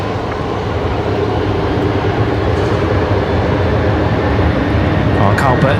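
A Qantas passenger jet, flight 545, rolls down the runway at Brisbane Airport for takeoff to Sydney. A loud, steady roar of engines and rushing noise builds slightly, with people talking over it.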